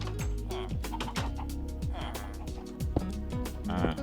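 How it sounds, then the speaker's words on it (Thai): A Minecraft chicken clucks in several short, pitched bursts spread irregularly over other game sounds, close but fairly quiet. "ถอยไปไอ้ไก่"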